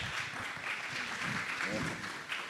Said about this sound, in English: I think we can have a little applause for everyone